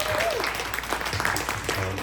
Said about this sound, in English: So just one more big round of applause for this panelist.